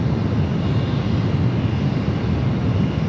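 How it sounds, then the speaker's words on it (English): A United Boeing 777-300ER starts its takeoff roll down runway 28 left at San Francisco airport, heard as a loud, steady low engine roar with broadband rumble that holds constant throughout. "Do have that United 777-300ER now starting its roll down to 28 left."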